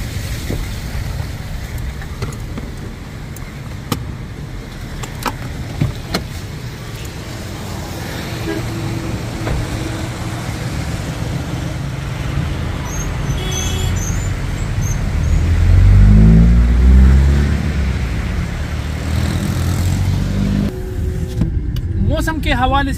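A car engine idling and rumbling as the vehicle slows to a stop on a road in Swat valley toward Kalam, a steady low hum with a swell of heavier engine noise near the end.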